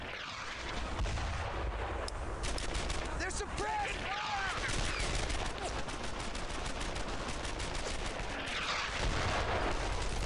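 Friendly mortar fire in the World War II shooter Brothers in Arms: Earned in Blood, booming loud and repeated amid dense battlefield gunfire, with a voice talking briefly underneath.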